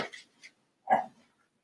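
A dog gives a couple of short, soft yelps and whimpers, then one louder bark-like whine, close by and alone, fading into quiet.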